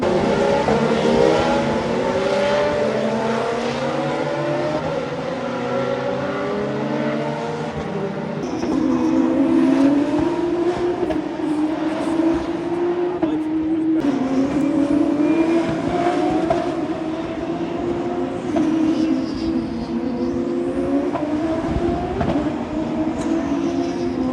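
Formula 2 race cars lapping the Monaco Grand Prix street circuit during practice: loud, high-revving engines whine past in rising and falling sweeps, one car after another, with no talk over them.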